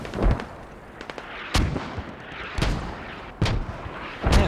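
Mortar artillery fire in a competitive match of a military video game, with about four sharp booming blasts spaced roughly a second apart, each loud and close against a low rumbling battlefield background.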